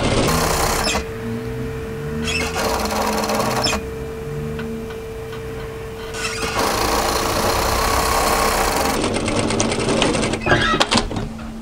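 A sewing machine stitches a seam on a cropped, tailored knit military-style jacket, running back toward the underarm in a few sustained bursts with short pauses, steady motor hum and rapid needle ticking close by.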